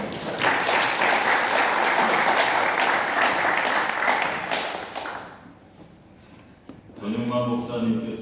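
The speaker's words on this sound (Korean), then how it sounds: "박수 한번 다시 한번 부탁드립니다" A crowd applauds loudly for about five seconds, then the clapping fades out and a voice begins speaking.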